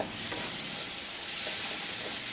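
Tomato masala with garam masala cooks in a pan and gets stirred, giving a loud, dense, continuous sizzle and hiss close up with faint stirring scrapes and no talking.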